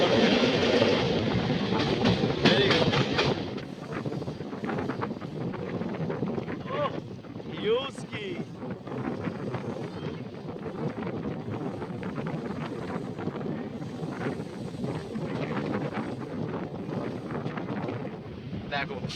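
An Asansol–Varanasi MEMU local train roars through a tunnel, a dense, continuous rumble with wind-like rushing that is loudest at first and then settles into a steady drone.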